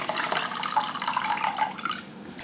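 Warm water pours from a kettle into an Instant Pot liner for sous vide cooking, a close, steady splashing gurgle lasting a couple of seconds.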